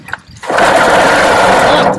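A sunk and seized Tohatsu 4hp outboard engine catches after a short quiet start and then runs in a loud, close, buzzing roar.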